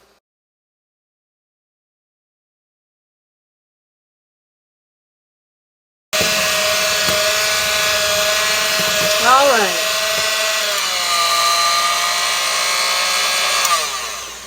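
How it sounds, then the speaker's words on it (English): An electric mixer whips egg whites with sugar for grasshopper pie, sped up into a steady, loud whine after six seconds of silence, with shifting pitch sweeps midway; a voice speaks briefly. "so that you guys don't have to listen to the mixer, I'm just going to put it on super fast"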